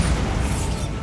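Bombarda blasting spell in the Hogwarts Legacy video game: one loud, dense burst of explosive rumble, sustained and broadband, with no talking.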